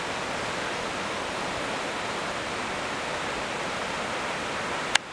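Tinker's Creek in Bedford Reservation, Ohio, running high after a night of heavy rain, a steady, loud roar of rushing water, with a sharp click near the end.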